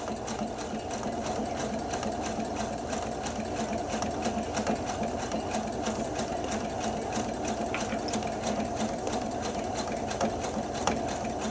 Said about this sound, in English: continue this whole curve all the way around